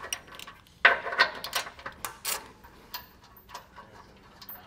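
A 15 millimeter socket removes bumper beam bolts during a base plate installation, giving quiet, irregular metallic ticks and clicks with one sharper clack near the start.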